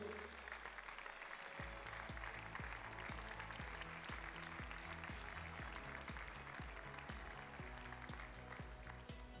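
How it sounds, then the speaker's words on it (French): An audience at a participatory-budget awards evening in the Landes claps in dense, continuous applause, faint and roomy, over a low repeating tonal pattern. "Juste pour vous dire, on peut les applaudir."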